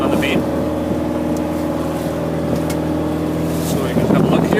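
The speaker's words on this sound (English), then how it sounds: "The boat rides fantastic through the waves head on and stern on" A diesel trawler heading through waves on a short trip to False Creek, with a steady low engine hum, water rush and wind buffeting the microphone, and a surge of splashing near the end.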